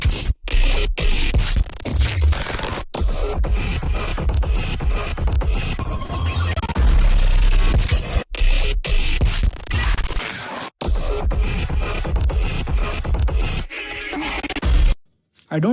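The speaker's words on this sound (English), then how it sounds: "And that's how the whole bass group sounds together." The full bass group of an electronic track plays together as a loud, dense, continuous low-heavy mix, with a few very brief dropouts, then cuts to silence at the end.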